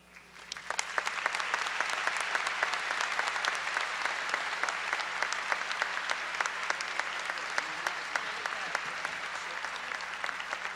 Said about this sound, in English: You can applaud twice.